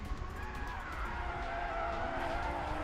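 Drift car skidding through the final curve at a street league drift championship race in Siauliai, Lithuania, a continuous loud tire squeal over a roaring engine, steady throughout.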